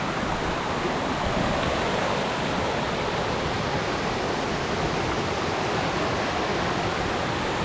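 Chet Khot waterfall in Saraburi cascading over rock ledges after fresh rain, a loud, even, unbroken roar of falling water filling the whole stretch with no voices.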